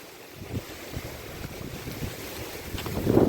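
Blustery wind sweeps through a banana plantation on a cloudy afternoon, a continuous low rushing with soft gusts that builds toward the close, heard alone without speech.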